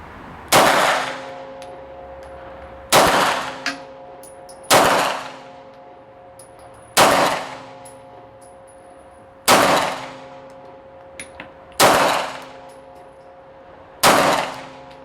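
An Arsenal Strike One pistol fires seven sharp, loud shots at a steady pace, each about two seconds apart, with each crack ringing out in a short echoing decay and no voices between them.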